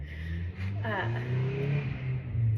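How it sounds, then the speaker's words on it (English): Cars pass along a small-town American street, a steady mid-distance engine hum that swells as vehicles go by, with a person talking over it. "There's annoying cars driving by."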